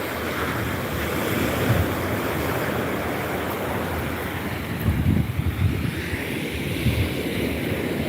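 Atlantic Ocean surf rolls onto the beach at Hutchinson Island, Fort Pierce, Florida, a steady roaring wash of breaking waves mixed with gusty wind buffeting the microphone, with no talking.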